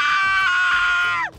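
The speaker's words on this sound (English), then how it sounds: "if you squeeze her, she actually screams" A squeezed plush toy lets out a loud, sustained high-pitched scream for about a second before it cuts off sharply.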